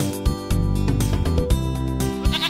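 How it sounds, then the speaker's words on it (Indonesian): A sheep bleats loudly and close up, a wavering drawn-out baa repeated in several quick bursts. "domba"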